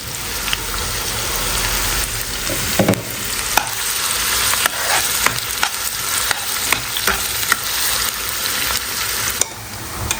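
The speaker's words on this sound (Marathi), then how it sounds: "जिरे छान असे तडतडले ना त्यानंतर आपल्याला टाकायचा आहे कांदा एक मोठा कांदा घेतलेला आहे मी हा परतून घेऊ" A large onion sautéing in hot oil with crackling cumin seeds, a steady loud sizzle with scraping stir strokes and occasional clinks of the spoon, continuous and close with no talk.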